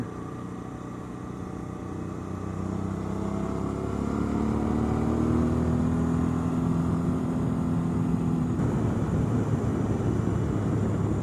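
A car engine, recently given an ECU flash, pulls hard under steady acceleration, its rising tone climbing over about eight seconds before the note shifts, loud and close throughout.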